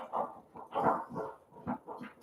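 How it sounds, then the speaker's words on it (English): A puppy barking indoors in a run of short, yappy barks and whimpering yips, close and fairly loud, with no talking. "that's the puppy who wasn't doing anything until I hit the button to record"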